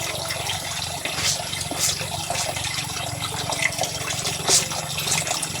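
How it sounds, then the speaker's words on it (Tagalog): Water sloshes and splashes steadily while clothes are washed by hand in a basin, a continuous close wet churning with small louder splashes now and then. "Laba po tayo mga tol."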